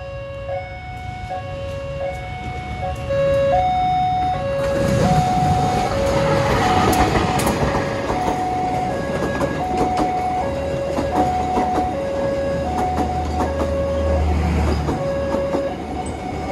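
A train pulling into Gubeng station in Surabaya, a steady rumble of rail cars with clattering wheels. Repeated two-tone station chimes or horn signals sound over it throughout, with a brief squeal midway.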